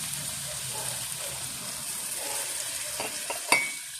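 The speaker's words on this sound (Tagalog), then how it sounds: "Kumukulo na po at may mantika na po siyang lumabas." Ground pork boiling and frying in its own rendered oil in a pan, a steady soft sizzle and bubbling throughout, with a brief clatter of a utensil or pot near the end.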